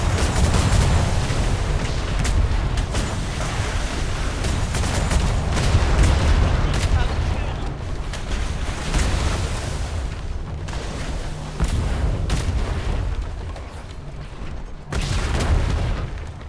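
Naval cannon broadsides fired from a Royal Navy sailing ship at a brigantine in a roleplay video game: dense, continuous booming and crackling gunfire that rolls on steadily for the whole stretch, loud and close.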